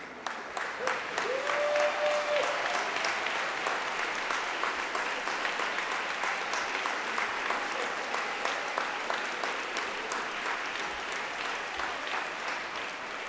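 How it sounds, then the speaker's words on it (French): Sustained audience applause at a Christmas Mass, dense and steady clapping from a crowd that keeps going throughout with scattered louder claps. "levez-vous, qu'on vous voie et qu'on vous applaudisse"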